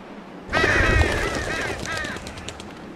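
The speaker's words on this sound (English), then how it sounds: "Damn crows." Harsh, hoarse crows cawing in The Walking Dead Season 2 video game, a burst of overlapping calls starting suddenly, then a second shorter caw, close and fairly loud.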